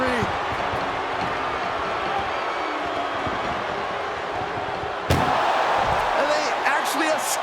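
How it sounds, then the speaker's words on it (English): A loud, sharp ambulance door slam in WWE 2K25 lands partway through an ambulance match, cutting into a steady bed of busy game noise and clatter, with faint talk underneath. "Trying to at least slam one door shut."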